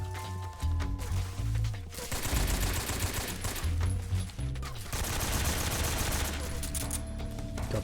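Gunfire from a weapon in the stealth video game Metal Gear Solid 3: Snake Eater, rapid bursts of shots with heavy low thumps repeating through the whole stretch, loud and close, with game music and ambience underneath.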